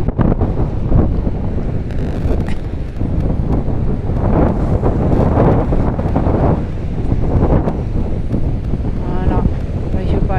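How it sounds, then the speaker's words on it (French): Powerful gusts of wind on the coast at Noirmoutier, France, roar against the microphone nonstop, loud and blustery, with a faint rush of surf beneath. "Alors là, il y a du vent, hein, je vous dis pas, il y a du vent."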